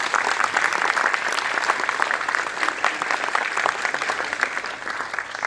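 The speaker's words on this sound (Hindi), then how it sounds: "इनके लिए ताली मारिए जोर से।" An audience at an Anupam Kher acting masterclass in Bharat Mandapam breaks into sustained, dense applause, a steady roar of many clapping hands with a few voices mixed in.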